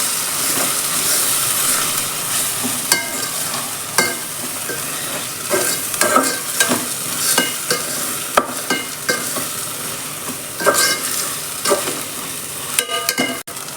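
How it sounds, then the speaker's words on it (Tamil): Garlic and green chillies sauté in a pan for a Tamil coconut milk rice dish, with a constant sizzle under repeated scraping stirs of a spoon against the pan, close and clear. "பூண்டு நல்லா வதங்கினதுக்கப்புறம் பச்சை மிளகா சேர்த்துக்கலாம்"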